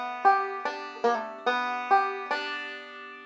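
A banjo picks a square roll with two pull-offs, six bright plucked attacks in an even rhythm, each ringing on into the next, close and clean with no voices.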